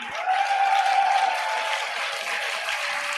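A church congregation applauds to acclaim the word of God, a bright sustained wash of clapping and cheering that stays fairly loud throughout the short burst.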